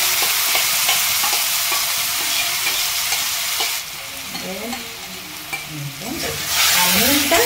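Pointed gourd paste fries loudly over a high flame and is stirred continuously, a dense, close sizzle with scraping strokes that drops in level midway before rising again.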